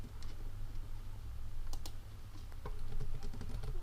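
Quick, close clicking keystrokes patter on a computer keyboard as program code for a microprocessor lab exercise is typed in, irregular bursts with no talking.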